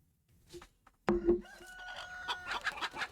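Chickens cluck and crow in the Fable video game, a sudden burst of loud fowl calls followed by continuing clucking and squawks against faint game ambience.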